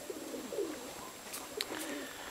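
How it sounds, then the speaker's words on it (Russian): Pigeons give soft, faint coos outdoors on a still winter day, a few low calls scattered through quiet background noise. "Вот, сейчас голуби начнут."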